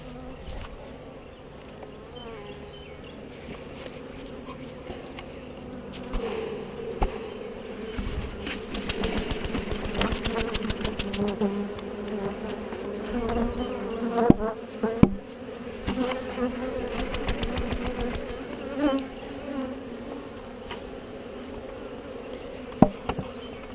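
A dense, steady hum of many honey bees buzzing close by while a nuc is installed and bees are knocked off the hive cover, rising and falling slightly, with occasional knocks and bumps over it.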